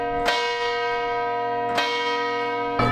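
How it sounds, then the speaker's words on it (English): Church bells ring with long, resonant strikes about every second and a half, their tones overlapping and sustaining. "There are bells ringing all over the city."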